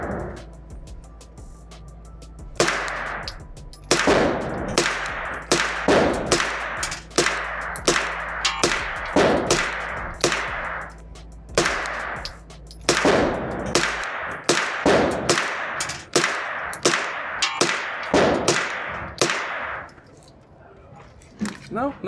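Roughly two dozen sharp gunshots from a CMMG 9mm pistol-caliber carbine firing 124-grain rounds, loud and close, fired in an uneven but steady rhythm with brief pauses, over a low steady hum.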